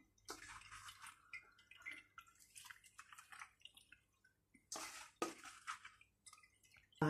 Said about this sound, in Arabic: نعاود البنات نديرها مره ثانيه في الماء